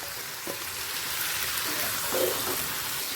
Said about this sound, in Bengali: চিকেনটা পেঁয়াজের সাথে ভাজতে দিয়ে